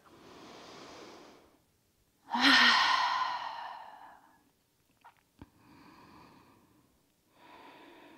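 A slow, deep breath out through the mouth during gentle prenatal aerial yoga, a long soft airy sigh set between quieter breaths in and out, with a faint tap and rustle of fabric.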